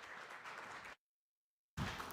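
Applause from a conference audience at a medtech event's main stage as a CEO is welcomed up, a dense wash of clapping that cuts out abruptly, then resumes loudly after a short silent gap.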